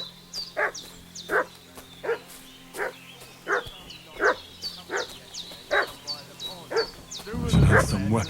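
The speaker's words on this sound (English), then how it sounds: "What's that dog making such a fuss about?" A dog in the video game Kingdom Come barks repeatedly in a steady, insistent series of yaps at moderate distance, ending in a louder scuffle of noise.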